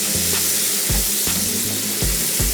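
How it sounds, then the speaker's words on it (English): Chopped onions fry in a tablespoon of butter in a pan, giving a steady loud hiss with occasional soft knocks and stirring clatter. "That sizzling sound, I love it."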